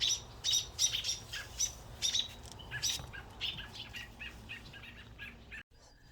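An agitated bird outdoors chirps and squawks in rapid, sharp bursts close by, loud at first and then more scattered, over a low background rumble before cutting off near the end.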